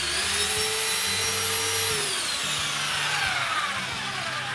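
An angle grinder used while building a brick fireplace oven with a bread chamber, its high motor whine sliding steadily downward in pitch as the disc spins down, loud and close over a low rumbling background, with no talk.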